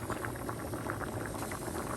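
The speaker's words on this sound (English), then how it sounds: "We're 4 minutes into boiling." Water boils steadily in a pot of rice, a constant bubbling hiss with soft popping bursts, close and fairly quiet.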